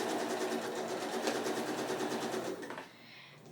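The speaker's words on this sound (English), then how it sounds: "Then sew these together with a 1/4 inch seam, and you shouldn't need a pin." A home sewing machine stitches quilt block pieces together with a quarter-inch seam. Its needle hums in a fast, steady mechanical rhythm for about two and a half seconds, close and clear, then stops. A brief clunk follows in the near-quiet.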